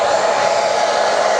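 A hair dryer blows steadily on its high setting, a loud, constant whooshing whir with no other sounds.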